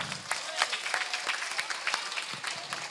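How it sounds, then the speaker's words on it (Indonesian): Audience at an outdoor religious sermon gathering in Surabaya applauding, a steady patter of many hands clapping at a moderate distance, fairly faint throughout. "Tepuk tangannya mana?"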